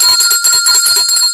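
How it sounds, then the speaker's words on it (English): A bell rings steadily for over a second, a bright sustained metallic tone with shimmering overtones, loud and close, with no voices. "You must ring the bell for stuff like that."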